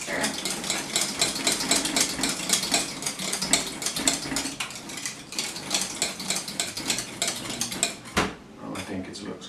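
An electric mixer whips cream in a kitchen, a steady busy whirring with beaters clattering against the bowl, then stopping near the end, with faint talk in the background.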